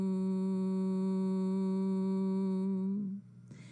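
A steady, loud human hum imitating a buzzing bee during Bhramari Pranayama breathing, held evenly for about three seconds before trailing off into a brief breath or rustle.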